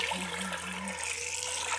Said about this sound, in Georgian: უბრალოდ წყალს ჩავაყენებ და მერე გავრეცხავ